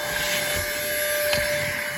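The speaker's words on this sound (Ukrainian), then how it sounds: "Та без проблем реально пилососить." A cordless Aurora vacuum cleaner runs steadily as it sucks crumbs from a car interior, producing a continuous whine with a constant high tone and a few brief rattles of debris.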